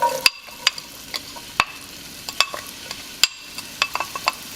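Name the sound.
finely chopped onions sizzling in lemon pepper oil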